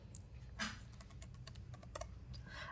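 Quiet typing on a computer keyboard while entering a PowerShell command: scattered, irregular keystrokes and clicks at low volume, with no voices.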